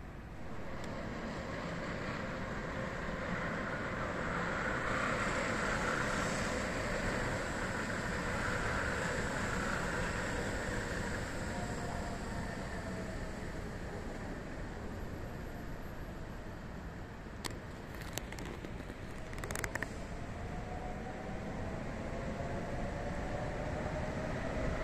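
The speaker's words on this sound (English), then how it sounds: "we're opposite the monorail station, so let's see if we can get a monorail coming out of it" A monorail train pulls out of a station in Japan at night, heard as a long, steady rumbling wash of broadband noise at a moderate distance, with a few faint clicks toward the end.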